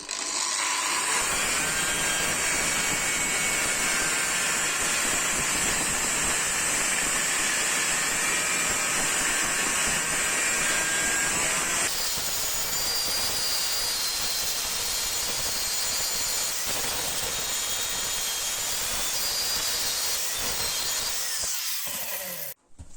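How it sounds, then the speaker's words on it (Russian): An angle grinder fitted with a worn flap disc grinds down a welded steel angle, a steady high-pitched whine with rough grinding noise that runs continuously for over twenty seconds before cutting off abruptly. "Просто попробуем его шлифануть."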